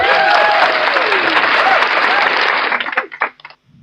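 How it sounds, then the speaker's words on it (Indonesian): An audience at a live event breaks into loud, dense applause that holds steady for a few seconds, then thins into scattered claps and fades out. "Beri tepuk tangan yang mulia untuk Bapak Abah Tony"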